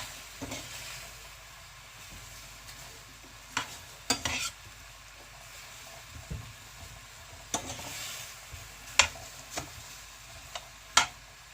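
Fajita ingredients stir-fried in a pan in a home kitchen, with quiet frying under scattered sharp scrapes and clacks of a utensil against the pan, no voices.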